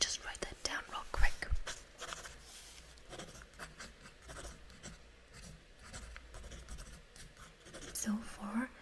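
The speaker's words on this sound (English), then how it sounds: "Let me just write that down real quick." A pen scratches across paper in close, quiet strokes, with soft whispering in the background.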